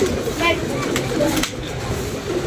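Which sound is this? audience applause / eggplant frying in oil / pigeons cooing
pigeons cooing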